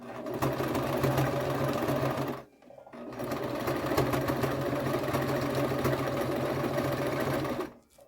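A sewing machine stitching through thick Dollar Tree drying mats for a pillow, running steadily with a busy mechanical whir, pausing briefly twice, close and loud with no talk.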